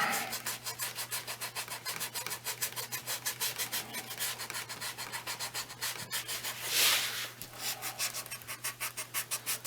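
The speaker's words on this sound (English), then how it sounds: "now I take a little piece of sandpaper and I rough that up" Small piece of sandpaper roughing up holster leather, a close rhythmic back-and-forth scrubbing with steady even strokes over a faint low hum.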